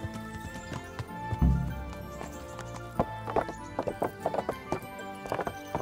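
Horse hooves clip-clopping at a run in the medieval video game Kingdom Come: Deliverance, a quick rhythmic patter of hoofbeats with a horse snort, over a low game music bed.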